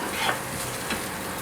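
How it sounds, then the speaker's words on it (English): A small onion sizzles as it fries in palm oil, a soft steady crackle with a couple of faint stirring scrapes, close by and with no voices. "So all you need to do is just fry this small onion until it's fragrant and brown."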